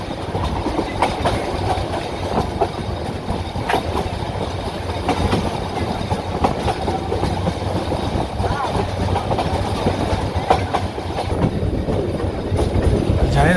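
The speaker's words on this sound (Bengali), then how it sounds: "স্টেশনের অনেক আগে থেকেই গাইস ট্রেনটা স্লো করে দিছে" A passenger train on the Dhaka to Chattogram line slows as it nears a station, with a continuous rolling rumble and soft rhythmic clacking of wheels on rails, and muffled voices in the carriage.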